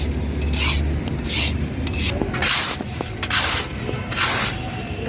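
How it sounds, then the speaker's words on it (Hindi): Chickpeas being dry-roasted in a village-style home kitchen for chana sattu, a continuous gritty rasping and rustling as they are stirred, with repeated sweeping scrapes and small clicks, close and fairly loud. "अब देखिए चने भुने जा रहे हैं सत्तू के लिए।"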